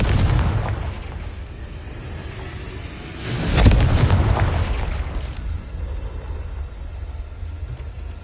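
Fiery spell blast in a Harry Potter video game, a deep booming burst midway that swells and rumbles out over a low continuous background drone.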